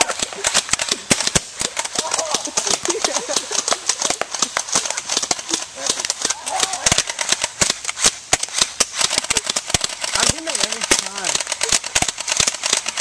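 Airsoft gun shots fired in rapid succession: a dense, fast stream of sharp snapping clicks goes on throughout, close and loud, with a voice talking over it in places.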